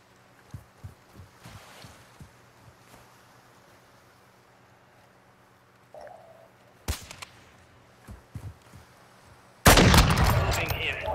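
Sharp, isolated sniper rifle cracks from Call of Duty on PS5 ring out one at a time at irregular intervals, some faint and distant, others close and loud, ending in a dense burst of noise.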